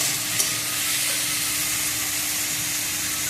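Jackfruit seeds tipped into ghee that has been frying for about seven minutes, giving a steady close sizzle and hiss with stirring, no voices.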